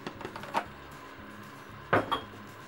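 Sliced onion stirred into pork inside a Moulinex Cookeo multicooker, giving a few faint scraping and clinking knocks of utensil against the pot, sparse and close.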